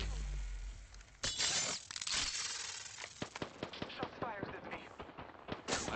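Gunfire in the battle royale shooter Apex Legends during an Arenas match, with rapid crackling bursts and sharp repeated shots, several close and loud, while players talk over the shooting.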